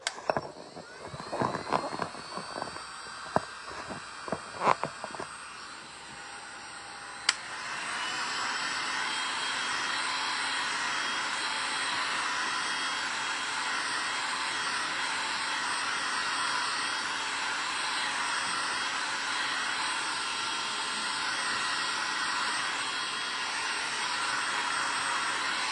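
A few handling knocks and taps come first, then a hair dryer switches on and blows steadily at close range to dry paint on a print, a loud continuous whooshing hum that lasts to the end.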